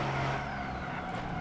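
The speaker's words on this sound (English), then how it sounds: "We're going to be spinning the tires all the way up the hill. We're going to be just revving the thing" A car in the BeamNG.drive driving game, an MD series vehicle climbing a hill at high revs with its tires spinning, gives a loud, sustained engine roar with a squealing tire edge, steady throughout and without talk.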